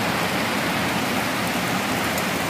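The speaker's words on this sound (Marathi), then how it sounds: "पाऊस केवढ्या जोरात पडतोय बघा" Heavy rain pouring down outside a house, a loud, dense, unbroken roar of falling water close by.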